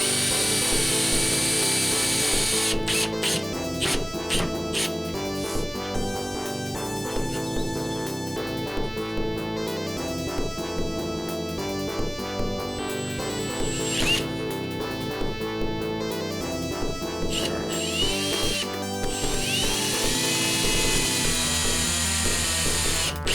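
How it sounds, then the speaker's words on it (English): A power drill drives a series of screws into an arcade cabinet being built, several loud whining bursts of varying pitch and length separated by brief pauses, close and alone. "Probably going to be putting about 6 to 8 screws in."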